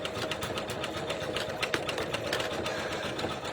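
An embroidery sewing machine stitches a Flower Fluffy Puff, giving a steady, fairly close mechanical whir with fast, even needle chatter running continuously throughout.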